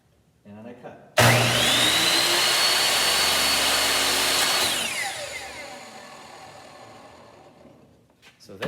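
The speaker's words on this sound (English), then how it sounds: "If I want to do a miter cut, I turn the saw, and then it's the same process." A miter saw whines up to full speed, cuts a miter, then its high motor tone drops and winds down as the blade coasts to a stop. The sound is loud and close, with no talking.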